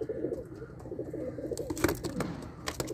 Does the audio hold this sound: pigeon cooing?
yes